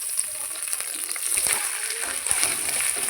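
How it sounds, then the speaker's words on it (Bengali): Ginger paste sizzling and frying with cashews and raisins in hot oil, a steady crackling hiss with a few soft stirring scrapes, close and continuous with no talk. "এবার একটু ভেজে নেব।"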